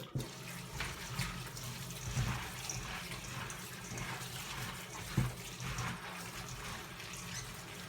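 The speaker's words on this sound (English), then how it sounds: "now I'll be washing my cauliflower in my colander" Cauliflower rinsed in a colander under a running kitchen tap, giving a steady, moderately close wash of splashing water with a couple of brief louder spatters and no talking.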